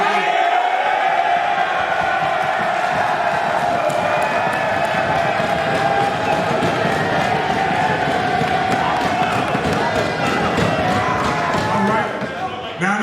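An audience at a motivational speaking event cheers and shouts loudly in a sustained roar, with scattered clapping and voices mixed through it.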